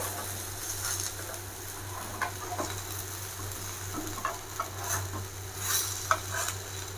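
Chana cutlets fry on a dosa griddle with a steady soft sizzle and faint crackle. Occasional light taps and scrapes of a spatula sound over a low background hum.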